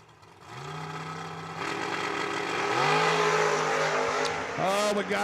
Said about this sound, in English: Oh, we got us old-fashioned drag race